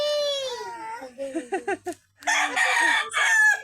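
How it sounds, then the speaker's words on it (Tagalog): A native chicken rooster crows nearby, its call mixed with clucking and other bird noises, ending in a further loud, ragged crow; no talking. "Native na manok."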